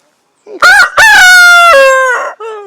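A Barred Plymouth Rock rooster crows loudly and close by, one long drawn-out cock-a-doodle-doo with a rising start and a falling, trailing finish, heard on its own.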